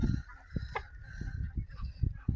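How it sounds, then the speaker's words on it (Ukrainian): Chickens cluck and squawk close by while guineafowl honk and chatter in short, uneven bursts, a busy village farmyard flock. "Позбігалися спочатку кури, потім цесарки всіх курей порозганяли."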